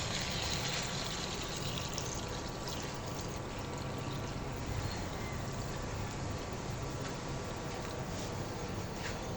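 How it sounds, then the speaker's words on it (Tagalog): Water pours steadily into a cooking pot for sinigang pork soup, a continuous broad splashing rush heard up close and without pause, with no talking over it. "At maglalagay na po tayo ng tubig ngayon."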